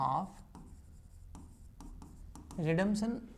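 Chalk or marker scratches across a board during an accounting lesson, a few brief dry strokes with gaps, fairly close and soft; a voice speaks at the start and again near the end.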